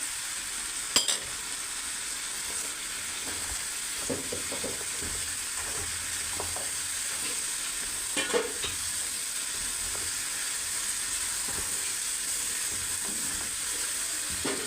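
Mutton fries with ginger garlic paste in a steady hissing sizzle, with occasional stirring knocks and scrapes. Nobody speaks.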